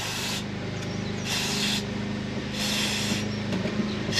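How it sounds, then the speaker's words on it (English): Sealant is sprayed into a gap in the bed of a Range Rover Classic in repeated bursts, each a loud hiss of about a second with short pauses between, over a steady low background hum. "spray inside our gap."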